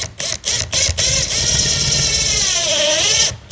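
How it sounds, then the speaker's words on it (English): A power drill whirs steadily at low speed during plumbing work on a vintage camper, a continuous droning motor with a few brief interruptions at the start and end. "Why is this drill on so slow?"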